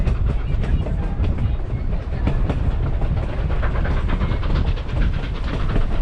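A Durango & Silverton narrow gauge railroad car rolls along the track near Silverton, a steady rumble with rhythmic clickety-clack wheel beats heard from on board.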